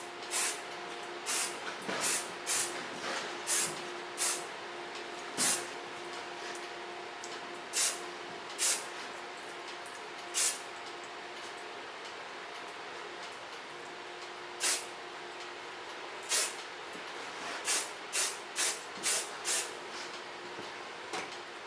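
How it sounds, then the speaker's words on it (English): Short hissing bursts of hairspray from a volume-line can misting over freshly styled hair in a salon, a dozen or more quick sprays in irregular clusters, fairly close but soft, with no talking. "secure this with a hairspray so it can cool down"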